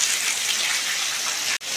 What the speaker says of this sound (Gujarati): હવે વરસાદનું પ્રમાણ વધવામાં લાગ્યો છે